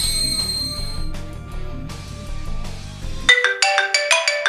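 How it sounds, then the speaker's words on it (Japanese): A smartphone rings with a bright melodic ringtone that cuts in suddenly over quieter background tones, repeating in quick pulsing notes near and clear, with no talking. "このスマートフォンに非通知で電話かけてほしいの"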